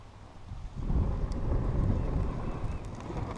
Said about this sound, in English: the wind blowing in that direction, and it's not a strong wind